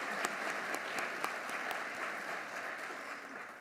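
Audience applause at an economic forecast event, a steady wash of many hands clapping for several seconds, fairly distant and fading slightly at the end.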